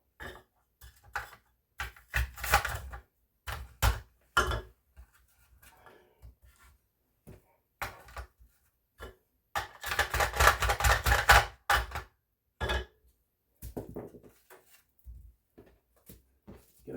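Apples being sliced for oven drying, a series of irregular crisp knife cuts and taps on a board, close and fairly quiet, with a longer burst of rapid chopping midway and pauses between strokes.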